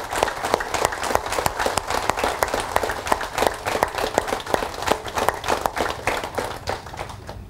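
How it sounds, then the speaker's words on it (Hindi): Audience applause after a talk, dense rapid clapping from a crowd, loud and sustained before tapering off toward the end. "तो इस तरह के जोरदार तालियां हनी के लिए एक बार।"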